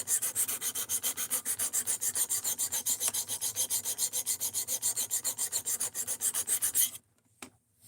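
The D2 steel blade of an Ozark Trail axis lock knife is ground back to clean steel, producing a close, rapid and even series of rasping back-and-forth strokes that stop abruptly near the end, with no talk.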